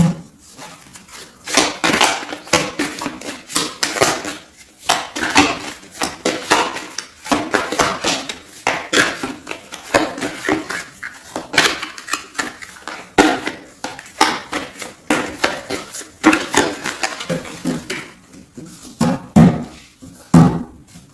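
Tarot cards being cut and shuffled by hand, a dense run of crisp papery slaps, riffles and taps repeating fast and close throughout, with no talk.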